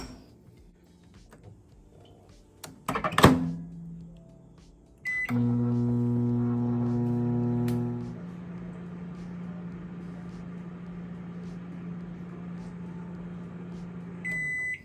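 A microwave oven cooking vegetable dal, with a steady low electrical hum and fan drone that starts after a clunk and door sounds, shifts to a quieter running tone, and ends with a short beep.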